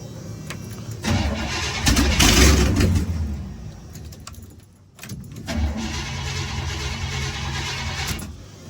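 Squarebody crew cab pickup truck engine cranking and catching, roaring loudly up close, then dipping nearly to a stall before a second surge settles into a rough, steady run.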